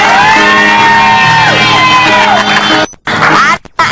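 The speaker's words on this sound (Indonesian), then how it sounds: "Tepuk tangan dulu dong buat Fairu." A studio audience on an Indonesian TV talk show cheers and shouts loudly for Fairuz, a dense continuous roar with whoops and music, cutting off abruptly near the end with brief gaps.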